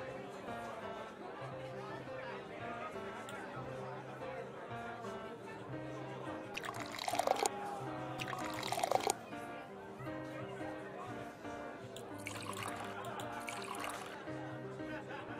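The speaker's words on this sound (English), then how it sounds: "A glass has 5 parts to be filled with either beer or water." Beer or water pours into a glass in a video game mini game: two short splashing, trickling bursts sound beneath ongoing talk and background game sound.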